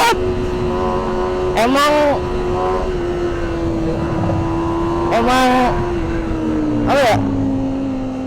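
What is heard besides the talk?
Kawasaki ZX25R motorcycle engine revving with stock exhaust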